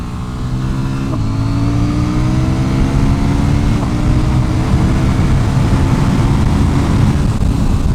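A Suzuki DR-Z motorcycle engine revs continuously and loudly up close, its pitch climbing and settling with a steady throaty drone, no voices.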